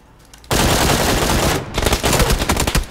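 Gunfire in PUBG Battlegrounds opens with a sudden loud sustained burst, pauses briefly, then resumes as a rapid string of sharp automatic shots, close and intense, with no talk over it.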